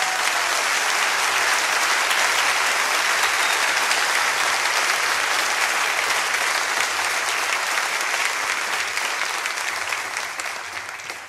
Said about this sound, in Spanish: para que pido un aplauso muy grande.